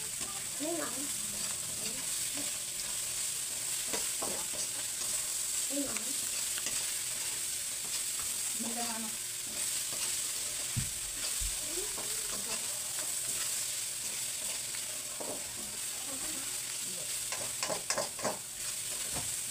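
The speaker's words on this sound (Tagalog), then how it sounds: "Dito ko na rin po sinama sa pag-prito yung sili." Steady sizzling of chili frying in oil, with intermittent scraping and clinks as it is stirred around the pan, close by and continuous.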